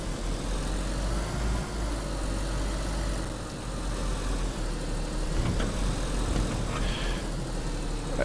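An OLGA 24 car in the video game DayZ, its engine running at a steady, continuous drone as it drives along, fairly loud with no voices over it.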